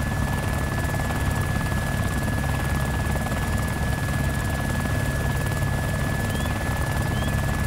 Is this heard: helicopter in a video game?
yes